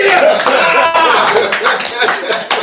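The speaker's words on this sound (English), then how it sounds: "Clap it up." A small live-show crowd bursts into quick, dense hand clapping, mixed with chuckles and bits of talk close to the microphone, the applause continuing throughout.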